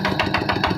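An 11-horsepower power tiller engine drives a rice seeder in a field test, chugging close and loud with a steady pulsing rhythm throughout the short clip.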